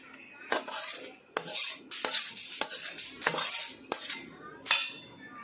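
Potato stuffing being mixed into gravy for bhungla bateta, a spoon clanking and scraping against a metal pot in irregular bursts with short pauses between, close and clear with no talk.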